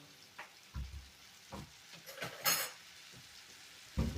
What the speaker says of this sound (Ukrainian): мої яблучка підсмажуються